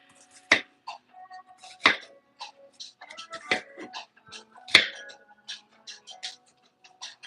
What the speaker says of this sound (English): I'm just chopping up some vegetables to make my cheeseburger wontons.